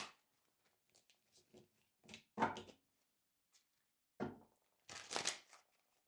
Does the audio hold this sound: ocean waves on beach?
no